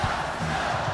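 Low crowd murmur and booing from an arena crowd in NBA Live 19 during a Celtics versus Bucks basketball game, a brief steady wash of voices.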